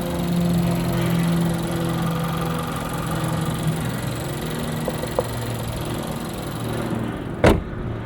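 A 2021 Nissan Altima SR with its 2.0-liter VC-Turbo engine idles steadily with a low, smooth hum heard from inside, followed by a couple of faint clicks and a brief sharp knock near the end.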